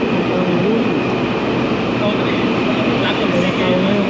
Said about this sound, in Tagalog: Dito po sasakay natin train.